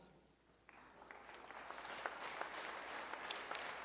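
A church congregation applauds during a harvest celebration service in Hinche, Haiti, the clapping swelling from a faint start into a steady, dense wash of many hands that holds to the end.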